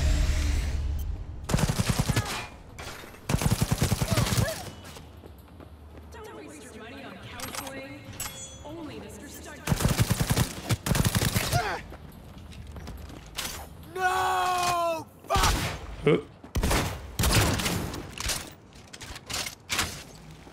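Bursts of heavy gunfire in Cyberpunk 2077 come in loud, blocky volleys with quieter gaps between them, mixed with other game effects and some brief tonal sounds.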